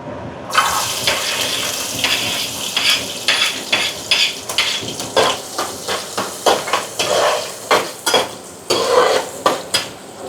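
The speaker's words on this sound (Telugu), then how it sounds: "వీటిని కొంచెం ఫ్రై అవ్వనివ్వాలి" Onions and green chilies fry with fenugreek seeds while a utensil stirs and scrapes the pan in repeated rhythmic strokes over a soft, continuous sizzle.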